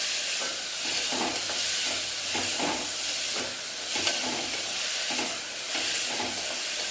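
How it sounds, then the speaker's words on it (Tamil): Ingredients sauté with salt in a pan for a lentil-free idli sambar: a constant sizzling hiss broken by rhythmic scraping strokes of a stirring spoon. "ரெண்டுலேருந்து 3 நிமிஷம் நல்லா வதக்கிட்டுக்கலாம்."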